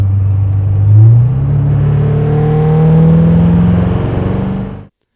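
An LML diesel pickup truck in tow/haul mode accelerates hard from inside the cab, a loud steady engine drone climbing in pitch with a rising turbo whistle over about five seconds before cutting off abruptly.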